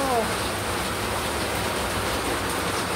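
Steady rain pours outside a small shop, a dense even hiss that fills the whole stretch, close and constant with no talking.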